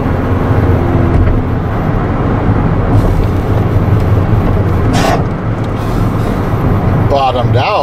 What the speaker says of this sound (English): Rattling sounds like it's likely a panel